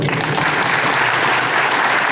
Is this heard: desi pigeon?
no